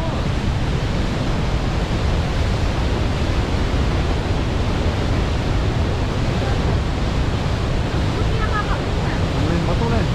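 Athabasca Falls, a powerful waterfall, roars as a dense, steady wash of rushing water, loud and unbroken throughout, with a brief voice faintly in the background.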